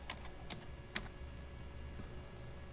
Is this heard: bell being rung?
no